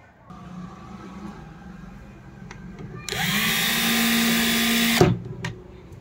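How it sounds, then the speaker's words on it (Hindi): An automatic electric screwdriver machine is switched on to spin in the forward (tightening) direction, giving a steady loud whirring motor hum for about two seconds before cutting off, after a quieter background stretch. "फॉरवर्ड करेंगे तो ये जो आपका स्क्रू ड्राइवर है वो टाइट पोजीशन में घूमेगा"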